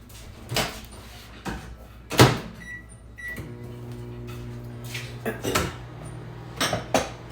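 Kitchen clatter as a dish of tomato basil soup goes into a microwave: the door thuds, a few beeps sound, then the oven settles into a low steady hum, all fairly quiet and close, without talk.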